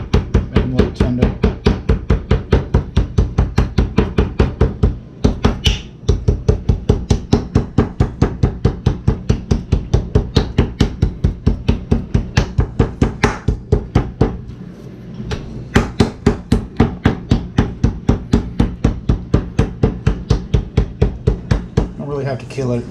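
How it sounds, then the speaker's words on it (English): Steak being pounded with a small meat hammer, a fast, loud, relentless train of sharp thuds keeping an even rhythm, pausing briefly twice before resuming. "So I want to pound these out, so I got a little hammer here."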